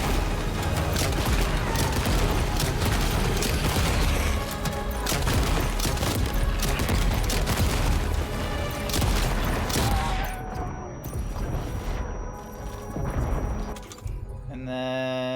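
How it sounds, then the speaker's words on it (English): A grenade launcher in the video game Death Stranding 2 fires and explodes in dense, loud, overlapping blasts and crashes, which thin out into scattered bangs near the end. "Oh yeah, grenade launcher. Let's give that one a try."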